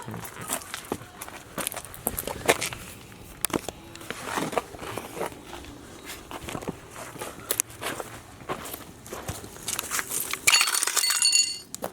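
Broken glass crunches and clinks underfoot inside a graffiti-covered train tunnel, with irregular footsteps crackling throughout and a sharper burst of clinking near the end.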